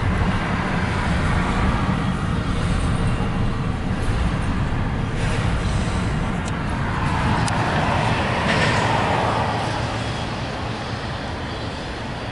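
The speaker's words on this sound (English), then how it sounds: "This train was fully loaded." A continuous loud rumble of a fully loaded Norfolk Southern 21V westbound intermodal freight train rolling past close by, with steady rattling and clanking throughout.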